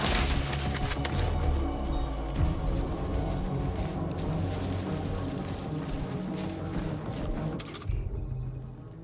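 Rapid bursts of rubber-bullet gunfire in the video game Death Stranding 2, a dense fusillade of shots over booming game sound that stays loud for most of the stretch before dropping away near the end.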